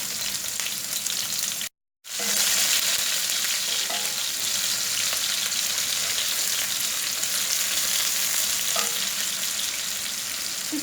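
Sliced onion goes into hot oil with cumin seeds and fries in a steady, loud sizzle that runs throughout, broken by a brief silence near the start.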